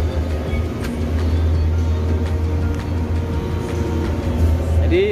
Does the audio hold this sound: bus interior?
yes